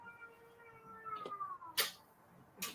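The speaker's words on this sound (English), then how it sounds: "She's saying F words in cat language." An angry cat lets out a drawn-out, falling meow-like growl, followed by two sharp hissing or spitting bursts, faint and close in a quiet room.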